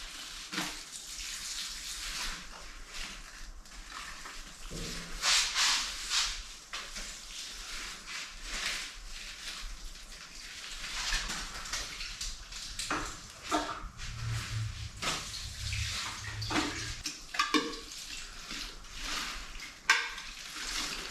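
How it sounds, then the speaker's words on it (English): Water trickles from a watering can or spout onto potted Heart to Heart caladium plants, a soft irregular splashing and dribbling into moist soil, continuing in uneven bursts for about twenty seconds with no talking. "So I just gave them all a little bit of water, just enough to moisten the soil around their roots"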